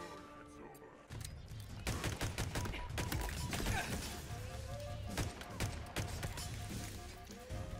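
Pistol shots and combat noise in a Halo Forge campaign fight between Covenant and Banished, sharp repeated cracks and impacts over a busy game soundscape, with someone talking through it.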